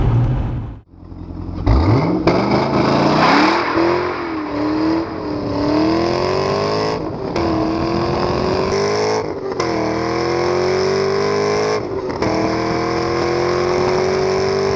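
A C6 Corvette Z06 with a top speed near 198 mph revs hard and accelerates, its engine note climbing steadily and loudly through the gears with brief dips at each shift, close and dominant.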